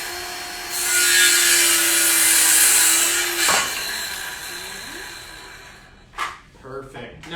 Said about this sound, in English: we're going to do the same 18 volt 1+ circular saw running off the same battery